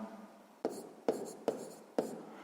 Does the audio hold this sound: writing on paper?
yes